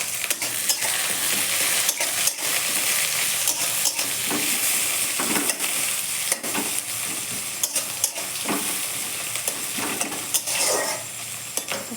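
Cumin, onion and chopped garlic fry loudly in a pan, a dense continuous sizzle broken by frequent utensil scrapes and stirring clicks, with no talking.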